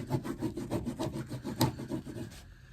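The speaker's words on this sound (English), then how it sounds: "It's a dull chisel, so it's not going to cut anything." A dull chisel scrapes repeatedly across a vintage Louis Vuitton briefcase, a close rhythmic series of rough rasping strokes with one sharper scrape near the end.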